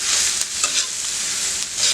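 Onion and tomato frying over medium heat in a pan, a constant loud sizzle with a few brief stirring scrapes breaking through.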